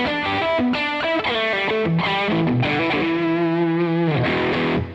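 PRS Studio electric guitar in pickup position 2, played with distortion and effects, a loud close run of sustained notes and chords ending on a long held note, no talking.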